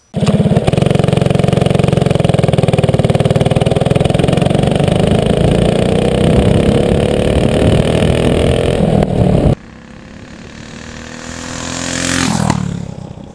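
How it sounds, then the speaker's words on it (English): Small go-kart engine running loud and close with a steady rasping drone for about nine seconds, then cutting off to quieter background with a brief rising whine near the end. "our new idea, go-karts."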